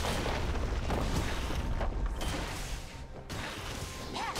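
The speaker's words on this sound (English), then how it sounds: "Red team's turret has been destroyed." A tower crumbles in the League of Legends video game, a loud, dense rumble of booming and crashing debris with mechanical clatter that fades toward the end.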